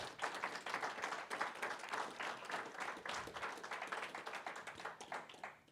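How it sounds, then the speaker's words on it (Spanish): A church congregation claps together during a Spanish-language service, a steady, fairly quiet patter of many hands that carries through without pause and fades slightly toward the end. "Damos un aplauso al Señor por nuestras ofrendas,"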